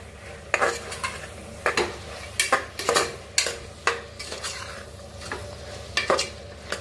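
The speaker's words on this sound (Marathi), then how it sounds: "बघा, छान असा मसाला भाजून घ्यायचा." A spoon scrapes through turmeric, chili powder and coriander masala roasting in a pan, its sharp strokes coming at an uneven pace over a steady low sizzle, close and with no talking.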